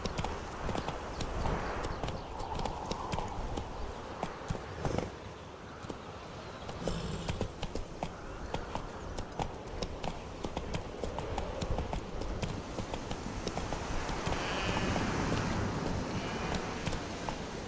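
Roach the horse clip-clops steadily through The Witcher 3 game world, hooves striking in a continuous rhythmic gait beneath ambient game sound, with a brief whinny-like tone.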